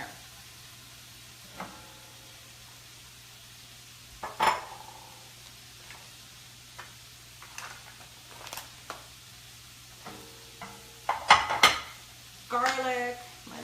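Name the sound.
pans clattering while cooking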